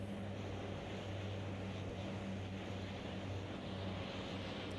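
A DHC-7 propeller airliner takes off from Appleton International Airport in Greenville, Wisconsin, in Microsoft Flight Simulator 2020, its engines making a steady, loud, unbroken drone with no voices over it.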